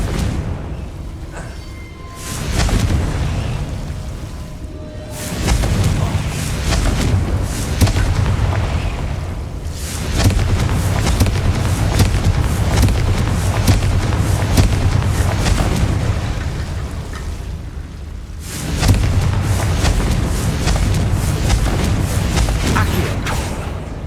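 Repeated heavy magical blasts from the Confringo spell in Hogwarts Legacy, deep booming explosions rolling one after another with sustained rumble, loud and near, with a brief lull before another burst near the end.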